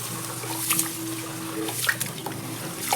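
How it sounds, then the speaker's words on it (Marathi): Finger millet (ragi) rinsed by hand in a bowl of water for papad, with soft close trickling and small intermittent splashes and drips, no voices. "मी इथं नागली पाण्यात टाकून दिली, 2-3 पाण्याने धुवून घेते"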